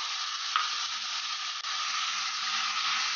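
Crushed tomato cooking in a pan with spices for drumstick sabji, giving a steady, close frying hiss with light stirring throughout, no voices over it.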